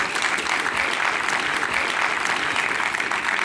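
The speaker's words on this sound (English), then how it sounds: "Let's give a big round of applause for everybody so far." An audience at a 3D design and motion talk in New York claps steadily, a full, continuous round of applause from a sizable crowd.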